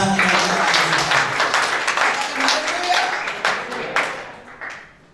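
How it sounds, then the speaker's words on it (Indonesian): A church congregation claps in response during a sermon, a burst of applause that is loudest at the start, mixed with voices, and tapers off over a few seconds. "Yang setuju tepuk tangan."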